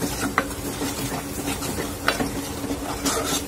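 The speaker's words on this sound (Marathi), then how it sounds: "मसाल्याला तेल छान सुटूपर्यंत आपण परतून घेणार आहोत" Garam masala and red chili powder being sautéed in oil in a pan for a dhaba-style rajma dish, with a steady close sizzle under repeated scraping and stirring strokes of a spoon against the pan, no talking.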